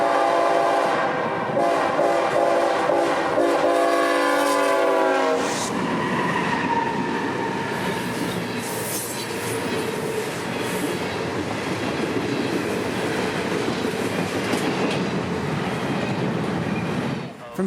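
Intermodal freight train passing at track speed near Jessup, Georgia, with a horn blast at the start giving way to loud, steady rumble and rattling of railcars rolling by close and continuous.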